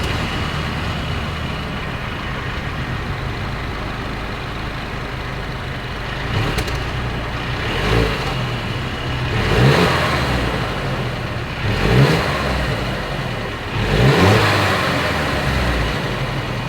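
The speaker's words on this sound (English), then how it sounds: "As always, here is that exhaust clip." Exhaust of a 2022 Mercedes-Benz GLC 300 Coupe, a steady low idle broken by four or five short throttle blips that swell and fall back, recorded close at the rear with no talk.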